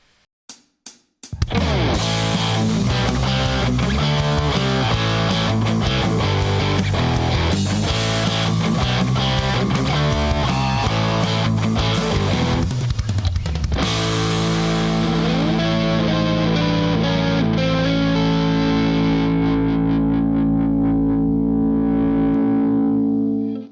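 Custom Kiedo electric guitar with Hathor Nostradamus P90 humbuckers playing a heavily distorted riff with effects, steady and loud, then shifting to sustained ringing distorted chords that fade out near the end.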